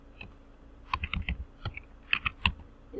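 Keys clatter on a computer keyboard as numbers are typed into an Excel spreadsheet, a short uneven burst of close, crisp taps with no talking.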